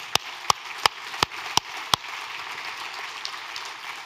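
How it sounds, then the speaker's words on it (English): About six sharp, evenly spaced claps ring out close by at the closing of the DENOG10 network operators' conference, then stop, leaving a soft hiss of room noise. "So again, big round of applause for"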